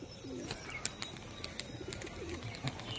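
Soft cooing of green, red-eyed pigeons in a loft, faint low coos repeating under a steady background hiss, with occasional small clicks and rustles.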